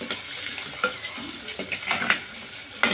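Eggs frying in a pan over a medium flame for an egg curry, heard as a steady soft sizzle with occasional scraping stir strokes and small bursts of crackling.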